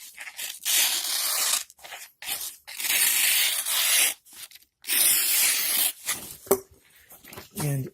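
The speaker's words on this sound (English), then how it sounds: "Well, let's try some paper." A Sanrenmu 4025 folding knife slices through paper in several loud, close, rasping tearing strokes separated by short gaps, with a brief voice near the end.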